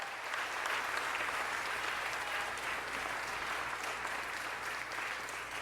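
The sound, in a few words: audience applause for a singer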